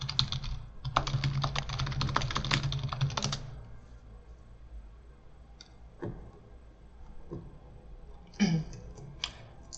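Typing a Google search on a computer keyboard, a rapid dense run of close key clicks followed by a few scattered taps and clicks.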